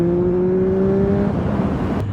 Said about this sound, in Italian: Il motore, sentite la spinta che ha dopo i 5000 giri